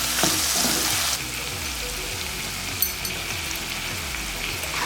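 Onions and spices fry in a pan, giving a steady sizzling hiss with a few soft stirring scrapes and a brief clink, no voices over it.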